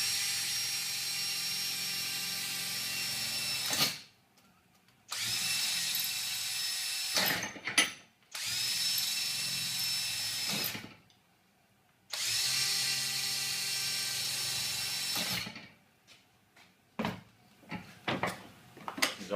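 A power drill with a 4.5mm bit bores holes in a steel trunking lid, three loud sustained whirring bursts separated by pauses, then short stuttering trigger blips at the end.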